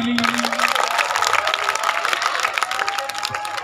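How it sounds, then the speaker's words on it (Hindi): A school audience claps steadily through the whole stretch, moderately loud and close, mixed with crowd murmur and scattered voices. "जोरदार ताली"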